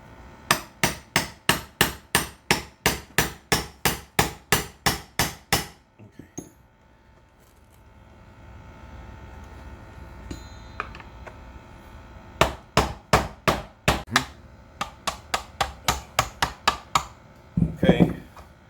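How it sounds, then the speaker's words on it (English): Sharp metallic hammer blows on a punch drive a pin out of a Minn Kota Ultrex steering pedal. Long runs of quick, evenly spaced strikes are broken by a quieter pause, then more strikes. "we got a punch and a hammer, and we're gonna push this pin to the other side"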